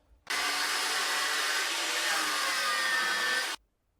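An angle grinder cutting off welds on a cotter-pin bicycle bottom bracket from a Union bicycle, a loud steady whining grind that starts abruptly and stops after about three seconds.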